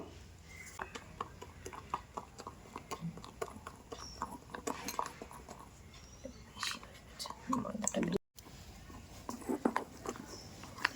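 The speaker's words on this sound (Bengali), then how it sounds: "এবার সেই ডিমের মিশ্রণের মধ্যে এবার আমরা ময়দা ও বেকিং সোডাটা মিশিয়ে আবারও ফাটাবো" Egg mixture being beaten with flour and baking soda into cake batter, quick repeated clinks and scrapes of a utensil against a bowl, close, with soft talking over it and one brief gap.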